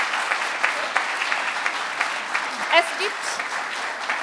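At a 2022 innovation prize award ceremony, an audience claps steadily for winners on stage holding their trophy, while someone speaks in German over the applause.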